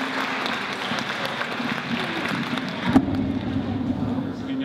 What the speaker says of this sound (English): And one more round of applause for the jazz band this year.